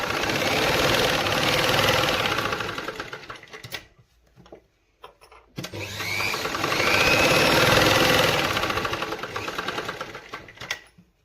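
A sewing machine stitching along a drawn line, running in loud, steady mechanical bursts: a long run, a brief pause with a few scattered clicks, then another sustained run, close and with no talking.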